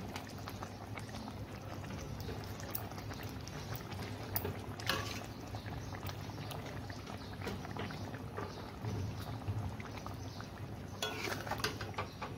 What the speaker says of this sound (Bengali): এবার আমি ফিশগুলো দিয়ে দেব, গ্রেভিতে ফিশগুলো দিয়ে দেব।